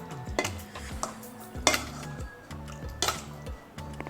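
Metal spoon scraping and clinking against a pan while vadacurry is mashed with coconut milk, a series of close, irregular knocks and scrapes with no talking.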